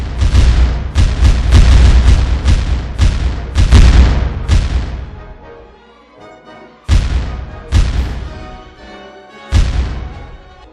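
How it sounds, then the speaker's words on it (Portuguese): Heavy booming blasts in quick succession, then a pause and a few more isolated loud reports with rumbling decay, like distant naval cannon fire and musketry from shore in the Battle of Riachuelo. "sob os tiros dos canhões paraguaios e da fuzilaria de terra"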